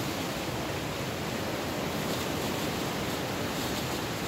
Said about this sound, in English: As you can hear, it's bloody windy out there,